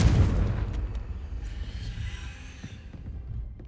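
A Confringo fire spell cast in Hogwarts Legacy bursts with a loud, booming blast, its heavy low rumble rolling out and slowly fading over several seconds with faint crackles on top.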